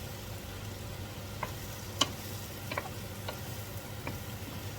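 Wild mushrooms fry in melted butter over high heat, giving a soft, steady sizzle broken by a handful of sharp spits and pops, with no talking.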